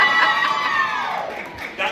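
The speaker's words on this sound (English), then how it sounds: "That only got the second biggest round of applause" A crowd at a charity dinner cheers and whoops loudly in one sustained burst that fades slightly, then swells again at the end.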